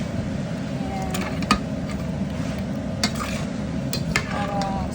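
Coconut milk poured over squash, okra and eggplant in a pan, giving a steady sizzle with spoon stirring and occasional clinks against the pot, continuous throughout.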